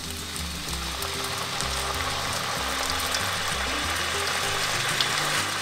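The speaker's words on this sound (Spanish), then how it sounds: "Y freímos las papas a lumbre media alrededor de 7 a 8 minutos." Potatoes fry in a single pan over medium heat, giving a steady, close sizzle and crackle throughout with no voices.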